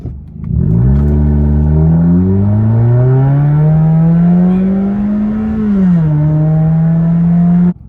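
A car fitted with a RoarPedal throttle response controller in Sports Plus mode accelerates with a loud, close engine drone that climbs steadily in pitch, dips briefly at a shift, then holds high before cutting off.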